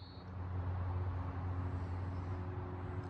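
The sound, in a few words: motor sounds of cars going by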